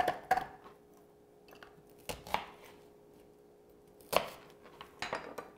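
Ingredients drop into a 12-inch family skillet preheated with olive oil, making a few separate clattering knocks and thuds spaced apart over quiet kitchen background, close and moderately loud.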